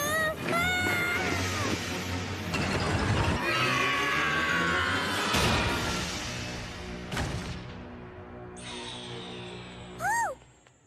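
A cartoon cat meows, yowls and caterwauls in long, loud, wavering cries over busy animated sound effects, ending with a short rising screech near the end.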